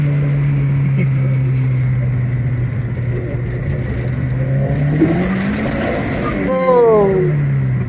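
A Vauxhall Nova with a turbocharged C20LET engine, heard from inside as it drones steadily at first and then climbs sharply in pitch under hard acceleration, loud and close, while a person talks over it.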